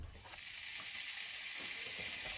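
Vegan mince fries in oil in a pan with a steady, close hiss and crackle, a dense even sizzle that holds without pause, with no voices over it.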